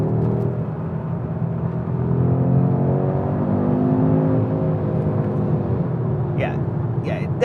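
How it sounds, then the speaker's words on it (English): An Audi RS3's five-cylinder engine idles and revs in dynamic mode with a throaty, warbling drone, rising and falling in pitch, close by and loud throughout. "This 5-cylinder engine"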